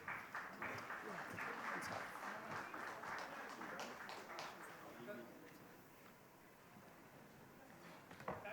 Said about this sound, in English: So a big round of applause for our Honorable Chief Minister.